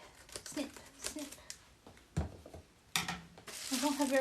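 Scissors snip and crunch through crinkly packaging in short, uneven bursts up close, with rustling between cuts.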